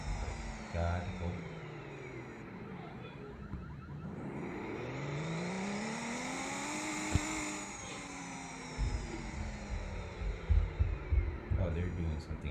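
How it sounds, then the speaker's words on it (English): In the Roblox driving game, a 2020 BMW 7-series exhaust gives a rising and falling engine tone with a sweeping pitch that peaks mid-way. A thump and rumbling follow, with a voice talking around it. "So that's how the exhaust sounds"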